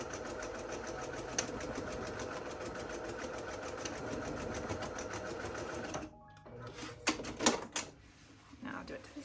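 A sewing machine stitches along the end of a patio cushion cover made of fraying fabric in a fast, steady, close whirring run that stops partway, followed by light clicks and handling noise.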